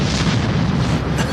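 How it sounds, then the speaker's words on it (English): A plane breaking the sound barrier makes a sonic boom, a loud, deep, rumbling blast that holds steady and heavy throughout the short moment. "The sonic boom follows the plane around for as long as it travels faster than sound."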